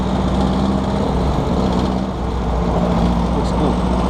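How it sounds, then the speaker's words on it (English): Volkswagen Beetle with a modified exhaust idling nearby: a steady, throaty engine rumble held at constant loudness, with a low drone and a faint higher whine running through it. "Oh, it's got like a modified exhaust system."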